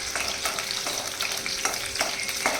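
Green chilies fry in a pan while sabudana khichdi is being made, giving a steady, close, continuous sizzle with a few short stirring scrapes on top.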